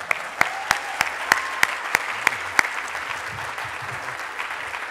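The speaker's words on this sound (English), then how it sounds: "A Navy spouse for 40 years. I think that deserves applause right there." Audience applause at a 2011 Easter Seals advocacy awards event, a steady wash of clapping from a crowd with sharper individual claps popping out at regular intervals, continuous through the whole stretch with no speech.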